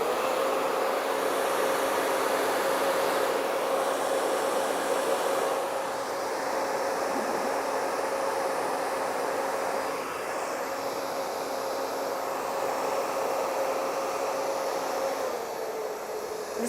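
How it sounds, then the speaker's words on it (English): A hair dryer with a diffuser attachment blowing steadily on curls, a loud continuous airy roar with a constant motor whine running through the whole stretch, level and unbroken. "So I'm going to use this diffuser and I'm just going to tap on here."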